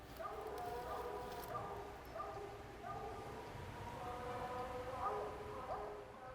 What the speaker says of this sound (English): That's Ground's tree bark.